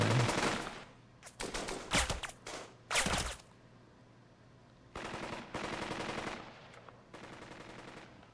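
Gunfire in the video game Burden of Command, sharp single shots and rattling machine-gun bursts coming in separate loud volleys with short quiet gaps between them.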